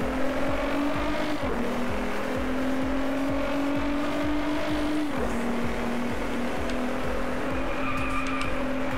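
Nissan GT-R NISMO engine in the Driveclub racing game, a steady loud drone with rising and falling pitch through gear changes, tire squeal and skidding mixed in, continuous and close throughout with no talking.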